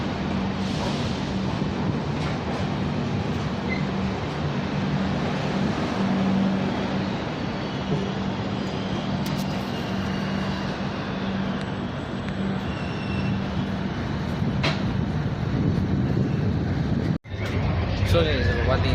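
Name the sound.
Shatabdi Express train running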